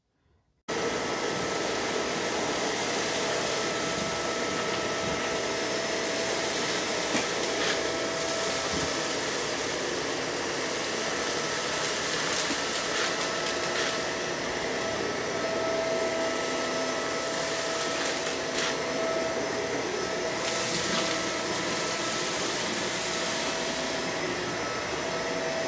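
A Shark Rotator vacuum cleaner runs steadily on a floor, a loud, constant motor whine and airflow roar after a brief silent start, with no talking.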